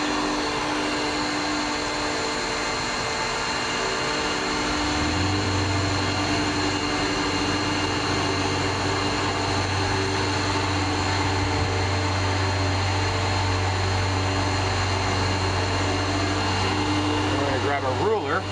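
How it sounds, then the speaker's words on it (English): Heat gun blowing steadily on melting crayons on canvas, a constant droning whir that swells louder partway through and runs on without a break. "we're just going to take our handy-dandy heat gun or hair dryer if you don't have a heat gun"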